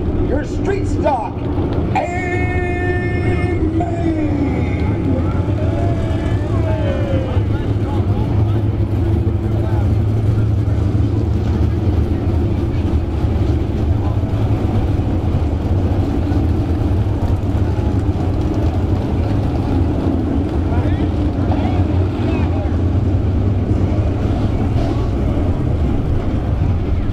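Street stock race cars roar around the 81 Speedway oval in a loud, continuous engine drone. An announcer talks over the racing noise through the public address system.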